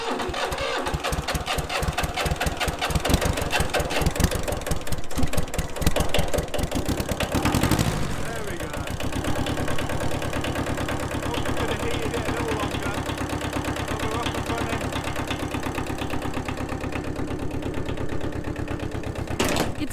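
A glow-plug engine cranks with loud rhythmic knocking, then catches at about eight seconds and settles into a steady, close mid-pitched idle that runs to the end.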